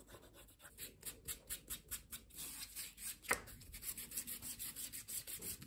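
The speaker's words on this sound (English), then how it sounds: "I'm literally rubbing the edges with my eraser right now" An eraser rubs quickly back and forth along fabric edges in soft, rhythmic scratchy strokes, close and quiet, with one sharper scrape midway.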